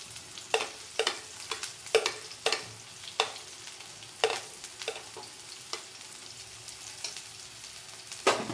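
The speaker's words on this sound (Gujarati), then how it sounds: "વ્હાઈટ સોસ માટે ડુંગળી અને મરચું સાતળી લઈશું।" Onions and chillies sautéing in oil in a pan for a white sauce pasta, with a steady sizzle broken by repeated sharp knocks and scrapes of a spoon, close and clear, no talking.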